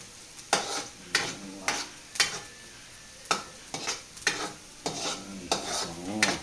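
Onions fry in a pan after tofu has been browned, with a quiet sizzle beneath repeated stirring scrapes that come in a regular rhythm roughly every half second, close by and with no talking.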